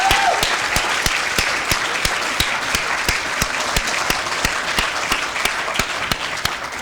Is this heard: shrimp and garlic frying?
no